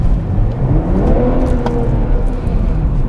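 A 2021 BMW M340i sports sedan pulls away under acceleration, its engine note rising in a smooth, fairly loud sweep over about three seconds with road rumble underneath and no talking.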